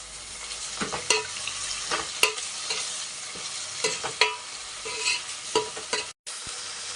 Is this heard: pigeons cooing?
no